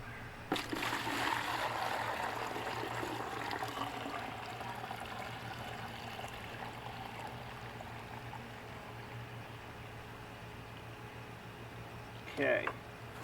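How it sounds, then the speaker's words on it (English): Water is poured off from a bucket, leaving heavy mud at the bottom while refining gold from BGA RAM chips: a steady close pour that gradually thins to a trickle, ending with a brief splash. "Okay, I'll pour off about that much water."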